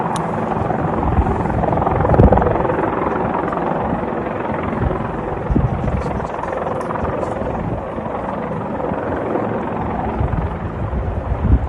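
A rescue helicopter with night-vision capability flies overhead during a cable car accident rescue in Antalya, its rotor a continuous loud thudding roar with wind noise, steady throughout.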